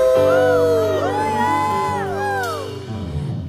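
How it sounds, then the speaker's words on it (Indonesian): A church congregation cheers and shouts together for Jesus, loud overlapping whoops and sustained voices filling a large hall for several seconds before fading out. "kita sorak-sorai buat Tuhan Yesus"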